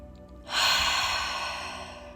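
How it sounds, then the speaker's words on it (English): A loud, forceful breath pushed out during a yoga cleansing-breath exercise, starting abruptly and then fading slowly over about two seconds, heard alone and close. "Make a lot of noise with your exhale."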